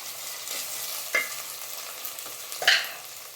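Chopped tomato dropped into a pan of frying onions and stirred, giving a soft steady sizzle with a few sharper scraping clatters from the stirring, fairly quiet and close.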